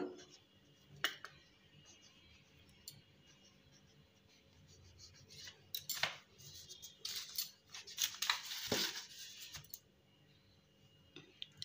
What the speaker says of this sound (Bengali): এবার মাঝখান দিয়ে সমান করে কিন্তু আমি ছুরি দিয়ে কেটে নেব